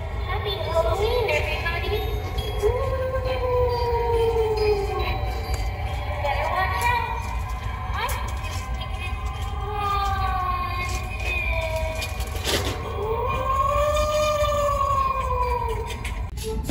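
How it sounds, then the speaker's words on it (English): A light-up Halloween ghost decoration in a home decor store plays wavering, moaning voice-like electronic sounds that swoop up and down over a constant low background hum. "here's a little ghost down here that possibly lights up as well. Oh, and he makes sounds"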